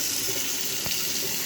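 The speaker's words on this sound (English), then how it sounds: "When I ran the sink over here, right, the water backed up over here." A sink tap in a house runs steadily, a loud, close, even rush of water with no pauses and no talk.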